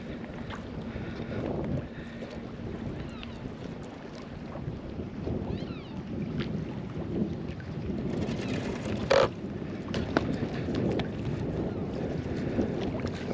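Steady wind gusting across an open lake while a small miniRival model sailboat is tested before a race, a continuous broadband rush with occasional louder buffets and a brief sharp knock near the end.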